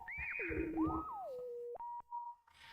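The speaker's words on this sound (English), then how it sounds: "when I change the cutoff frequency of the filter, it's changing the pitch. And so you get that cool kind of like R2-D2 sound" A self-oscillating resonant synth filter whistles and warbles as its cutoff is swept, producing R2-D2-like pitch glides: looping chirps and a long descending swoop, then short steady beeps and a soft noisy burst at the end.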